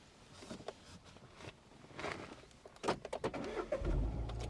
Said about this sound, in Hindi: सबसे पहले गाड़ी स्टार्ट कीजिए